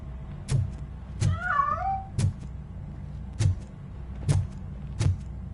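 A cat meows once in a Robocop: Rogue City game scene, a clear wavering cry set against a steady low hum and a series of regular sharp clunks.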